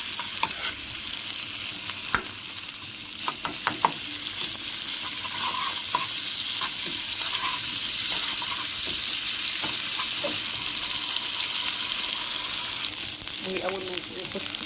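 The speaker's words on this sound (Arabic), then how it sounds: "معايا هنا معلقه ثوم او كام فص ثوم، عليهم معلقه سمنه" Garlic cloves sizzle in a spoonful of ghee as a topping for sprouted fava beans, a steady close frying hiss with scattered crackles and a few stirring clicks running throughout.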